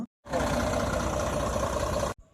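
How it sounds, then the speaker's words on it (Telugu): A loud 1688 truck engine runs steadily for about two seconds with a rough, rattling chug, then cuts off abruptly. "ఆ హోర్ అన్నది ఎలా వస్తుందో గడగడ గడగడ సౌండ్ వస్తుంది అనమాట ఇంజిన్ సౌండ్"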